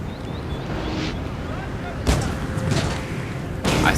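Howitzers in a Napoleon: Total War battle fire smoke shots, heard as two or three dull booming bursts over steady rumbling background noise, with a voice talking over them.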